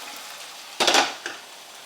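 Chilli con carne sizzles in a pan with a soft, steady hiss, broken by a loud scraping stir near the middle and a smaller clatter just after.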